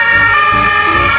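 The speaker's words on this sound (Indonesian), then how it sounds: "kita mendapatkan ambulans" A loud, steady electronic siren, like a toy ambulance's, holds a bright tone layered over harmonics for the whole short stretch, with no talking.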